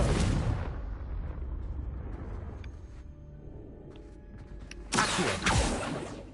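A Confringo fire spell cast in Hogwarts Legacy bursts with a loud, rushing blast at the start, fades to a low rumble, then erupts again in a second booming burst near the end.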